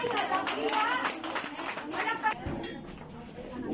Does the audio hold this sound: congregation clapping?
yes